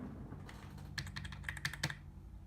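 Keys on an old computer keyboard with thin keys and no numpad click in quick irregular bursts, close and fairly quiet, with a few sharper taps standing out.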